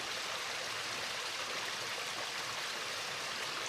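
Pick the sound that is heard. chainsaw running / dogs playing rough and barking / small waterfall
small waterfall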